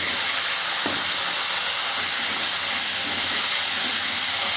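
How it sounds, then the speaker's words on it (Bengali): Papaya and potato pieces fry in oil left over from frying fish, along with black cumin, turmeric and salt. A continuous, fairly loud hissing sizzle holds steady throughout, with no talking. "পেঁপেটাকে সুন্দর করে লাল লাল করে ভেজে নেব"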